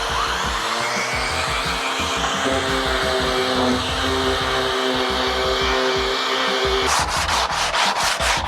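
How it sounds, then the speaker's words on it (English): Sandpaper worked by hand over old military aircraft drop tank metal, a steady, close scraping rub with repeated strokes throughout and a sharper, brighter burst of strokes near the end. "This is taking forever. Sanding's my favourite."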